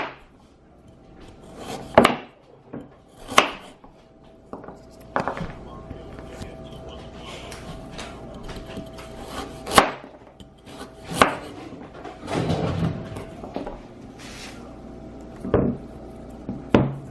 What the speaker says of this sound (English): So I chopped up 6 carrots to put in here